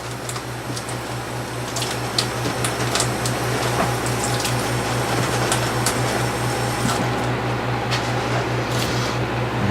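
Water runs steadily from a tap while produce for fresh salsa is washed, a loud, continuous rushing with faint splashes throughout.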